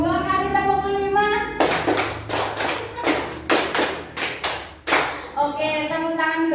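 A group claps together in a rhythmic pattern, two quick bursts of sharp unison claps with brief gaps, framed by a leader's speaking voice at the start and end, at a positive-culture training session.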